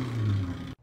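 A voice imitates an RS3 five-cylinder turbo engine on launch control, a short low droning rev that holds steady, then cuts off abruptly into silence.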